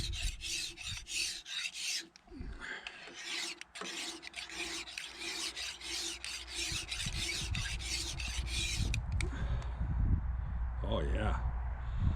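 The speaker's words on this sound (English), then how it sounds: "every time you file one of these, unless you file the whole width, you're always making the angle change" A hand file rasps in quick, even strokes across a lag bed planer blade, close and loud at first, then scraping continues under a steadier background rumble with some handling noise.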